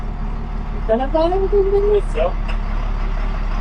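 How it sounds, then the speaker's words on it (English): A grain truck's engine idles with a steady, low rumble throughout, while someone talks over it. "it's a grain truck"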